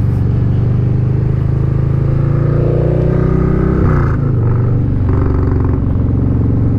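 A motorcycle engine and exhaust rumble loudly and close up, with engine pitch rising and falling as it revs and then settles to a deep, steady throb.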